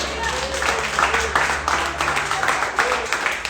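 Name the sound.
congregation clapping hands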